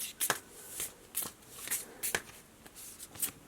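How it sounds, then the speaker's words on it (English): Moonology oracle cards are shuffled close up in quiet, soft riffling bursts repeating every half second or so, with no one speaking. "I'm gonna pull you guys some Moonology cards"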